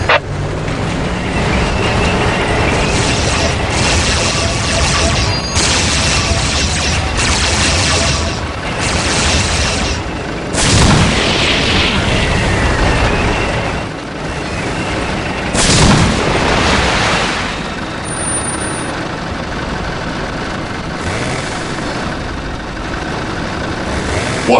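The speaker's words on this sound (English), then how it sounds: "Preparing whirlwind missile battery to fire." Dense, continuous roar of a Whirlwind missile battery firing in Dawn of War, with repeated launch whooshes and booming impacts layered over a heavy rumbling battle din throughout.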